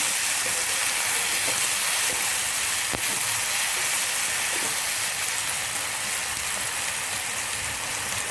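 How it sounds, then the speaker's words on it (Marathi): Steady close sizzling of an eggplant mixture with tomato frying in a pan for baingan bharta, a dense continuous hiss like light rain throughout, with no talking. "हे सगळं घालून आपण याला परतवून घेऊया। थोडंसं फ्राय करूया।"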